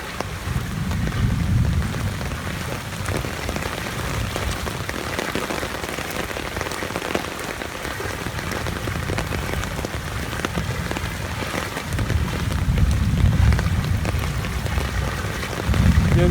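Steady rain pours down during a 2022 flood in Mollapara, Sylhet, a constant hiss of drops hitting surfaces with low wind rumble swelling at the start and end, no talking.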